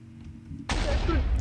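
Creeper explosion in the Minecraft video game, a sudden loud broadband blast that starts abruptly partway through and stays strong to the end, following a quieter stretch with faint voices.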